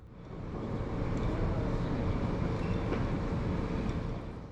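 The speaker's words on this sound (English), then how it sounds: "Here comes our train just now being shunted in from the depot." The Bernina Express is shunted in from the depot at Chur, a low rumbling rail approach that swells gradually, holds steady, then eases off slightly, with no voices over it.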